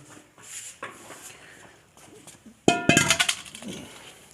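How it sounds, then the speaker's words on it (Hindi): A vessel used in preparing kushta faulad, an iron remedy, is set down with a sudden sharp clatter and ringing clinks, after a few quiet handling taps. "ये बर्तन जो है जी ये इधर रखते हैं।"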